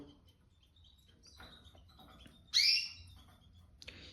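Soft, sparse canary chirps in a quiet room, with one sharp, bright chirp standing out near the end.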